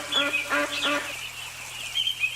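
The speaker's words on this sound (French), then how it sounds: "Mais voici un canard blanc." A white duck gives a quick run of three nasal quacks, close and moderately loud, then a fainter call trails off over a quiet background.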